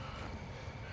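A steady, faint engine drone of a UAV recon aircraft circling overhead in Call of Duty: Modern Warfare II, a continuous airy hum with no other sounds.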